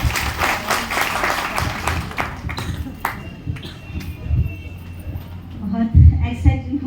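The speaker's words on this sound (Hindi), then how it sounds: "जोरदार ताली मैम के लिए।" Audience applause for someone speaker at a speech event: dense clapping from a crowd through the first half, thinning out with a few scattered claps and some background voices near the end.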